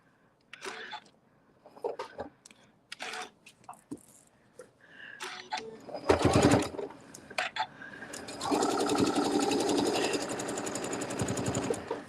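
A sewing machine top stitching a quilted table topper, first scattered handling clicks and bumps, then a loud close burst and a steady humming run of stitching in the later half.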